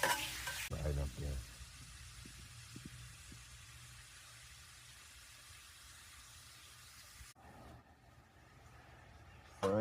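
Food frying and stirring in a pan over a campfire outdoors, a steady sizzling hiss running through the clip with a few soft utensil scrapes near the start and a brief louder clatter at the beginning.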